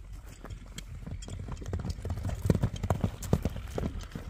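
A grey horse gallops across a field on soft ground, hooves thudding in a quick irregular rhythm that grows louder as it nears, with faint background murmur.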